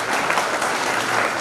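Audience applause at an all-India kavi sammelan poetry gathering held for a birth anniversary: a brief, loud, continuous burst of many hands clapping together, dense and even throughout.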